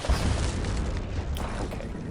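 A grenade detonates in the shooter game Shadow Ops: Red Mercury, a brief dense rumbling boom with a gritty crackling tail, loud and close.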